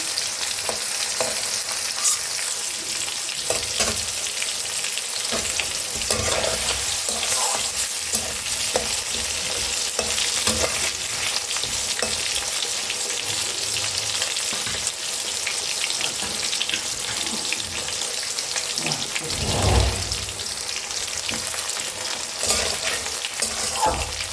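Potatoes fry in hot oil in a pan, a steady bright crackling sizzle with bursts of popping and occasional stirring scrapes, close and continuous without voices.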